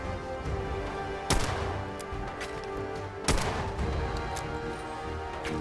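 Gunfire in a Fallout 4 firefight, with two loud sharp shots standing out over a dense, continuous bed of game noise as the player keeps firing on a tough enemy.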